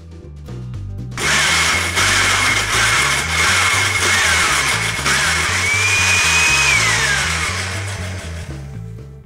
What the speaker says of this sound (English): Then pulse your blender until all the ingredients are completely combined.